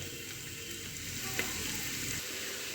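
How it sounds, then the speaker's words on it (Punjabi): Potato and fenugreek sabzi frying in oil, a soft even sizzle with faint stirring movement and one brief tap midway, quiet and close with no speech. "ਅਸੀਂ ਇੱਕ ਵਾਰੀ ਫੇਰ ਹਿਲਾ ਲਾਂਗੇ ਆਪਣੀ ਸਬਜ਼ੀ"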